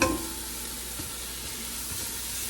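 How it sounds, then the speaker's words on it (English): Sliced chorizo and salted pork browning in an onion, garlic and paprika mixture in a pan, an even, close hissing sizzle after a short clatter at the start. "I'm going to brown these in the onions and garlic and paprika mixture, just to brown them a little bit"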